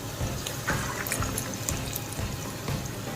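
Moong dal fritter batter dropped in small portions into hot oil for pesara punukulu, sizzling and crackling steadily throughout with scattered bright pops, close and fairly loud with no talking.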